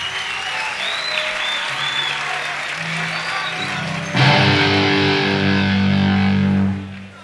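A sustained instrument tone gives way to a loud burst of concert audience applause and cheering for the band that lasts a few seconds, then fades.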